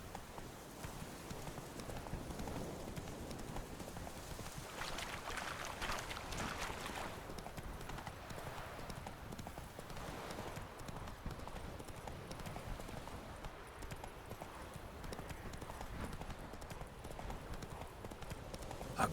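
In The Witcher 3, a horse's hooves beat a quick, steady clip-clop rhythm at a gallop, moderately loud and continuous throughout.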